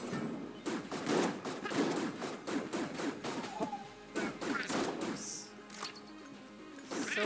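The Hegemony rifle in the game Enter the Gungeon fires in rapid, uneven bursts of punchy shots with crashing impacts, loud and close throughout.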